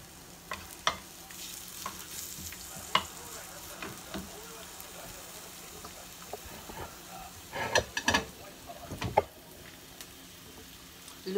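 Garlic and ginger sizzle in an old frying pan, a soft steady crackle broken by sharper scraping stirs, with a brief louder burst of frying near the end.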